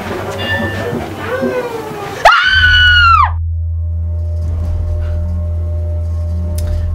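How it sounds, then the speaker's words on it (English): A woman's high, strained scream rings out in a haunted house attraction, loud and close for about a second after muffled voices, then cuts off into a steady low rumbling hum. "once you pass her, like, she starts screaming at you"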